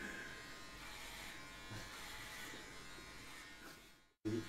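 An electric hair clipper buzzes continuously up close while cutting a head of hair down to zero length. Then it cuts out abruptly near the end, followed by a brief thump.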